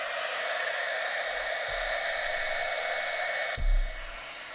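A heat gun blows steadily on a handmade card to warm ink, giving a soft, even whooshing hiss with a brief clunk partway through as it is handled, fairly close.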